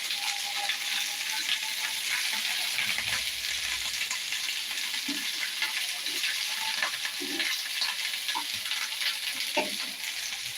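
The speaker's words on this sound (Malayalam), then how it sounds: "അപ്പൊ ഈ വെണ്ടയ്ക്ക് നമ്മൾ നന്നായിട്ടൊന്ന് മൂപ്പിച്ചെടുക്കണം കേട്ടോ എണ്ണയെ കുഴച്ചൊന്ന് മൂപ്പിച്ചെടുക്കണം" Okra frying in hot oil gives a steady close sizzle and crackle with occasional stirring knocks, continuous throughout with no talking.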